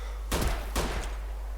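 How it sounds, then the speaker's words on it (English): Two muffled gunshot bursts from DayZ Breaking Point fire at a distance, each a broad rumbling crack with a short tail, about half a second apart over steady background hum. "I can hear shooting."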